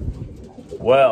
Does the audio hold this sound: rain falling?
no